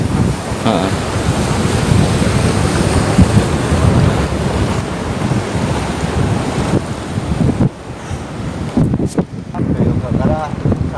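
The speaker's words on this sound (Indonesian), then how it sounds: "Ini langsung besar ombaknya ya" Strong surf crashing onto the beach at Balekambang, Malang, East Java, a steady loud roar of breaking waves with wind buffeting the microphone throughout, and a brief quieter lull near the end.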